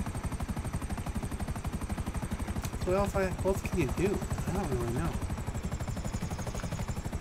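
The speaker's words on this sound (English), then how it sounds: "I'm going to call in this buzzard. Fly around the entire map shooting stuff." Buzzard attack helicopter in GTA 5 Online, a steady rapid rotor chop that fills the whole clip at moderate level while someone talks over it in the middle.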